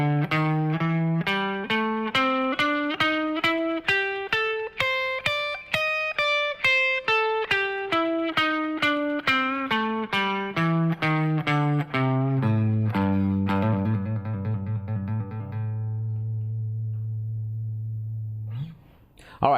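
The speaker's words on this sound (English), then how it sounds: "So this is the A blues scale with an extended range." Guitar running an A blues scale across an extended range, evenly picked single notes climbing then descending in a steady rhythm, the last note ringing out long, with no talking over it.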